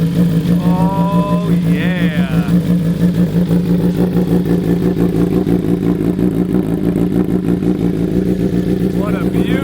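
BMW M1000R motorcycle with a full Akrapovic exhaust and Bren flash idling after a cold start, a loud, deep, rapidly pulsing rumble held steady throughout, with a voice speaking briefly over it.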